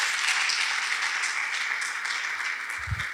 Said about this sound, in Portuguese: Então dê uma salva de palmas a Jesus.